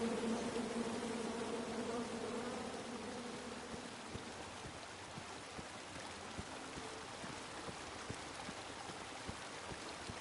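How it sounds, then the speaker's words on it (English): Bees in the King's Quest video game give off a steady, droning buzz that fills the whole stretch, with faint scattered clicks beneath it. "Come at me, bees!"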